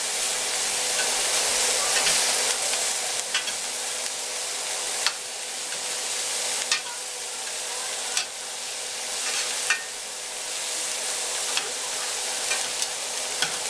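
Garlic butter shrimp sizzle steadily in a hot pan, a loud continuous frying hiss broken every couple of seconds by a sharp clack as pieces are flipped or the pan is touched, with no talking.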